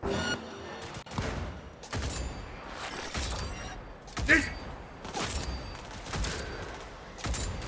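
Rifle gunfire in the video game Cyberpunk 2077: repeated heavy shots in a steady run, each a broad, booming blast about once a second, loud and close over continuous game ambience.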